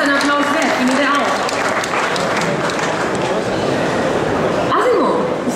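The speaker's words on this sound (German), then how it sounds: "das ist ein Applaus wert" An audience claps for a demonstration by Honda's Asimo robot at the Frankfurt IAA 2011 motor show. The applause is steady and close, with a voice talking over it and a brief tonal sweep near the end.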